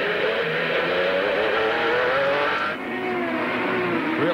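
Formula Holden race car engines at the 2001 Clipsal 500 roar loudly and steadily, their pitch dropping as they brake hard into the final hairpin, with a sharp shift partway through.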